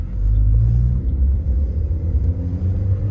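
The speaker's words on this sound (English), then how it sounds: "So I'm gonna let it out a little bit while hitting the gas." A manual car pulls away as the clutch is let out and the gas is pressed, with a steady, loud low engine rumble that swells slightly and holds for a few seconds, no talking.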